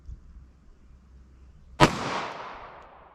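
A single sharp gunshot from a Ruger Security 9 pistol firing 9mm Federal JHP ammunition, a loud crack followed by a long, fading echo after a quiet stretch.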